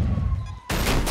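Gunfire from a powerful weapon in Grand Theft Auto V, where a quieter game ambience with a faint tone suddenly breaks into a loud, sustained burst of shots.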